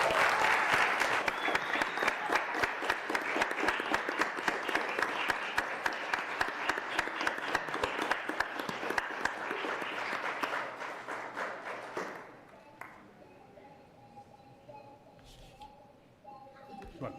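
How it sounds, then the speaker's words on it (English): An audience at a city commission meeting gives sustained, even applause for about twelve seconds before it dies away into quiet room sound and a few distant voices. "let's clap it up for them as well"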